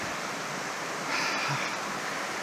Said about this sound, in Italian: stiamo camminando proprio nel ruscello